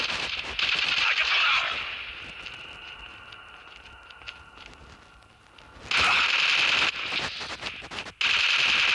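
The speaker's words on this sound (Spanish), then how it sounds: "Nos están disparando por acá." Bursts of automatic gunfire from Call of Duty Mobile on the Gulag map, loud rattling volleys at the start and again near the end, with a quieter stretch between and a voice talking over it.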